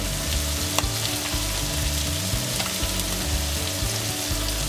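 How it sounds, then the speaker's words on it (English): A chicken filling with dried herbs, salt, white pepper and Dijon mustard is stirred in a hot frying pan, a loud close sizzle with steady spatula scraping and small clicks throughout, no speech. "Now go ahead and give that a nice stir."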